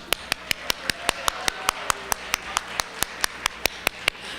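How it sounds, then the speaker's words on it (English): An audience at a Women and Wealth financial education event claps in slow unison, about twenty sharp, evenly spaced claps ringing out in a steady beat over a faint room murmur. "that's not how we clap at a Women and Wealth event"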